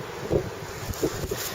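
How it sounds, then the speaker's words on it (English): Strong outdoor wind buffets the microphone near a small fishing pond in a railroad town, a steady rushing roar with a few louder gusts thumping through, no voices. "It's terribly windy"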